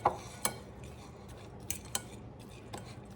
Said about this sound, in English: Gonna mix this up with my sausage crumbles